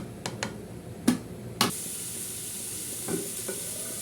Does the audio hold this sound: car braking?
no